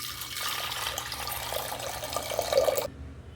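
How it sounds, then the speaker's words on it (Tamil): Tap water pours steadily into a pressure cooker holding 100 g of washed toor dal, a continuous splashing stream that stops abruptly near the end, with no talking. "இதில் தண்ணி சேர்த்துக்கிறேன்"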